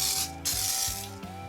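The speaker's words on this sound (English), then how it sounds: "I'm going to hit these with some spray cleaner and polish" A trigger spray bottle of cleaner and polish is pumped onto motorcycle saddlebags, giving several close hissing sprays with clicking trigger strokes between them.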